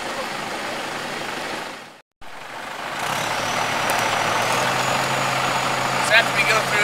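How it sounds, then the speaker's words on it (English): A tractor disks cover crop between vineyard rows after harvest. A steady engine drone stops briefly, then resumes louder and continues near and constant, with a voice over it. "What we're doing right now is going ahead and disking in between."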